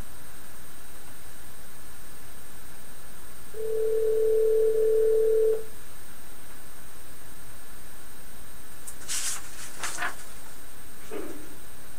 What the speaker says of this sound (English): it doesn't sound like we're going to get TK on the phone tonight